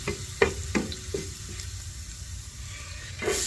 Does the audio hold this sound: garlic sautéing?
yes